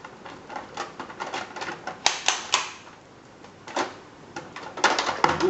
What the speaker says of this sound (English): You're gonna get the leg out again. Click, click, click, click, click.